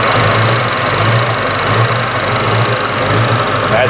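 Fuel injectors pulsing in a running 1965 Ford Mustang engine give a steady, fast mechanical ticking over the continuous hum of the idling motor, close and fairly loud throughout with no talk.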